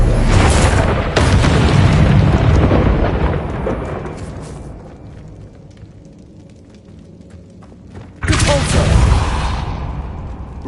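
Explosions from the Bombarda and Confringo spells in Hogwarts Legacy, with heavy booming blasts at the start, a rumbling fade, then another loud burst near the end, backed by game sound.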